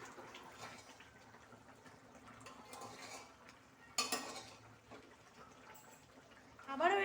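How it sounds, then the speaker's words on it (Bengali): A pot lid lifts off vegetarian Kashmiri dum aloo with a sudden metallic clank, followed by soft scraping and stirring of the potatoes and a final clatter, all fairly quiet with faint background voice. "এবারে ঢাকনাটা তুলে আলুর দমটাকে একটু নাড়িয়ে নিতে হবে।"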